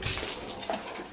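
A dog whimpers briefly indoors near a stairwell, a short thin whine with a breathy, noisy background and no talking.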